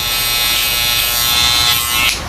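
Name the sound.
electric hair trimmer shaping beard line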